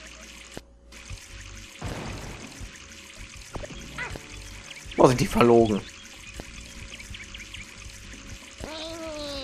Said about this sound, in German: Jetzt steigt wahrscheinlich das Wasser